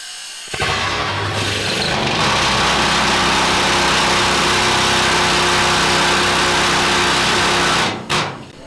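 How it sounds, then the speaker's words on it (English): A water-powered compressor machine runs in a mine powerhouse at Kimberley, BC, giving a loud, steady, close mechanical roar that starts abruptly, holds evenly for several seconds, then cuts off near the end. "this machine right here uses water from the creek to power it to make compressed gas"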